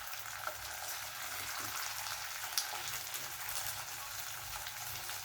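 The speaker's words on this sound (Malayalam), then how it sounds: "ഒരു മീഡിയം ഫ്ലെയിമിൽ ഫ്രൈ ചെയ്തെടുക്കാം" Jackfruit seeds frying in a pan over a medium flame give a steady, soft sizzle throughout, with occasional faint clicks and no one talking.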